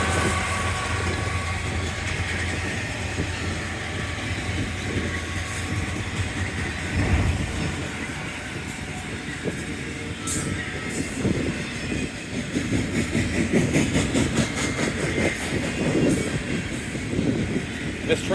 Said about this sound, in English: This train's slowing